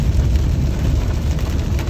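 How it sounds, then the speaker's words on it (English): Rain falling steadily on rooftops over a farm, a dense, even patter and rumble that stays fairly loud with no voices. "It's raining a bit harder now. You can hear it on the rooftops."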